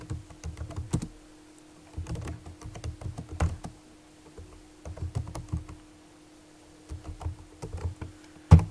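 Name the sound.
typing on a computer keyboard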